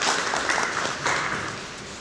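An audience at a business networking event on climate change claps for two guests, a short burst of moderate applause that fades quickly.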